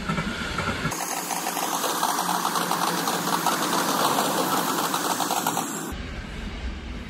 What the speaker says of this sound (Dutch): Er komt nou toevallig ook een trein voorbij.